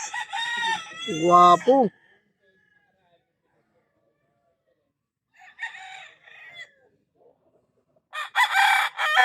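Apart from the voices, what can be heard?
roosters crowing on a fighting-cock farm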